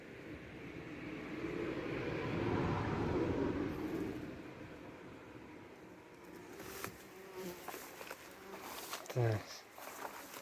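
A honeybee colony stirred up by Bayticol varroa strips gives a dense, close buzzing that swells and fades, followed by scattered handling knocks and rustles near the hive.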